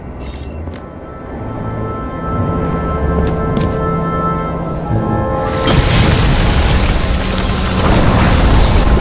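An electrical transformer blows up in the video game Nobody Wants to Die, a loud, sustained roar of burning and crackling that swells into a broad, rushing blast and stays heavy to the end.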